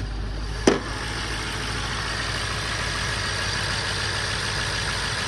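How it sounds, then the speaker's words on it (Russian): A cold BMW 7 Series F01 engine idles right after starting, a steady low rumble close by that runs evenly throughout, with one brief sharp knock near the start. "Это не прогретый мотор. Только завели ее."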